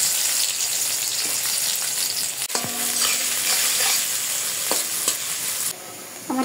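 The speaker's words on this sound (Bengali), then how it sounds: "আমার পেঁয়াজটা ভাজা হয়ে গেছে" Half a cup of chopped onion fries in hot oil in a wok, with a loud, steady sizzle broken by metal spatula scrapes and clanks, then quieting abruptly near the end.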